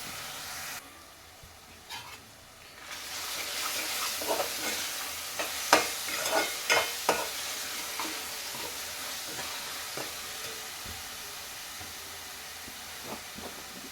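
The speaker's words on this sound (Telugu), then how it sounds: "ఇంకొక 5 నిమిషాలు ఎగితే ఇంకా ఆయిల్ అంతా బయటకు వస్తుంది" Masala frying in oil for a fish curry, a broad continuous sizzle with scattered spoon scrapes and taps building in the middle, then a long steady hiss of bubbling oil.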